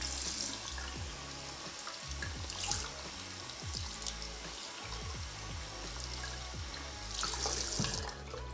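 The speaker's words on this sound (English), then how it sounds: "we're gonna turn on the water and run it through and see what happens" A water tap runs over a glove, a steady hiss of flowing, splashing water with faint irregular spatters, fairly quiet and without talk.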